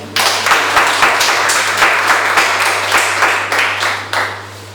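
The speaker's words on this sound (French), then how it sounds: "On acclame le Seigneur" A church congregation applauds during a French-language sermon, with steady, dense clapping that pulses rhythmically throughout, over a constant low electrical hum.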